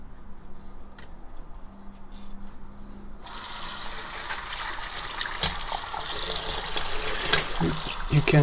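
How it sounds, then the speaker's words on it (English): Water from a tap gushes through Eheim Experience 250 aquarium filter pipes as they are rinsed, a soft trickle swelling abruptly into a loud, steady hissing rush that continues close by. "You can just get the water inside the pipes to get them cleaned"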